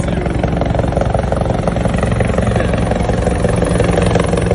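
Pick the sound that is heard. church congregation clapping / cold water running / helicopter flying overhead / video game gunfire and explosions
helicopter flying overhead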